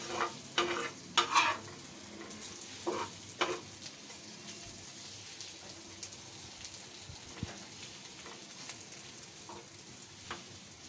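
Chicken curry with dried and ground chillies frying and being stirred in a pan, a few sharp scraping stirs early on, then a steady soft crackling sizzle that continues to the end with occasional light clinks.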